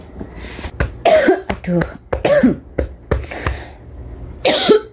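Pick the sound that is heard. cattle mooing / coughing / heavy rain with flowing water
coughing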